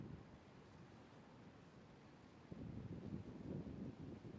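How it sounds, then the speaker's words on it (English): Ocean waves breaking behind an outdoor meditation spot, a steady low rushing wash that swells louder partway through, mixed with some wind noise and no voices. "Maybe it's the sound of the waves behind me."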